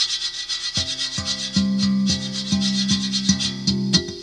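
Rhythmic rubbing and scraping on the textured surface of an electric Moyo drum, brushy swishes like brushes on a snare alongside regular thumping drum hits in a steady pattern, close and fairly loud.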